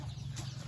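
Chickens clucking at a farm with other livestock during a grassland outing, a brief, faint call in the distance.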